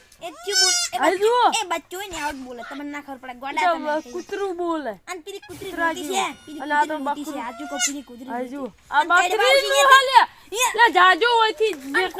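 A goat bleats repeatedly in loud, wavering cries, close by, with people talking and laughing around it.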